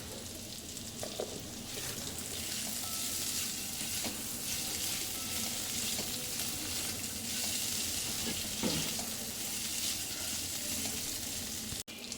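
Salted potatoes sauté uncovered in an open pan for masala bhindi, a dense, continuous sizzle with occasional scraping stirs, steady and close for the whole stretch.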